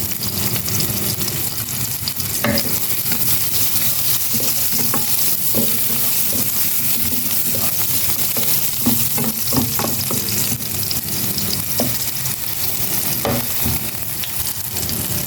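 Onion and garlic sizzle and fry in a pan for chicken cooked in coconut milk, a steady loud hiss broken by irregular scrapes and clacks of stirring, with no talk.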